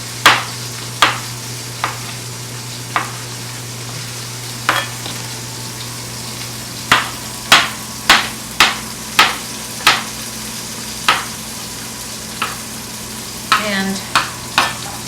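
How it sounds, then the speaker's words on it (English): Mushrooms are stirred in a pan for a pork sausage and egg scramble, with a steady sizzle underneath and sharp, irregular scraping strokes of the utensil, close and fairly loud. "I'm going to put mushrooms in our scramble"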